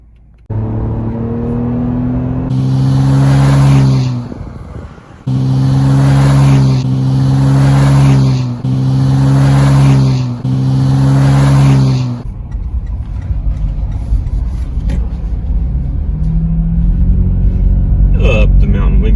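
A Toyota 4Runner TRD Pro climbs a mountain road, its engine droning loud and close in repeated revving surges broken by short shifts, then easing into a quieter rumble near the end.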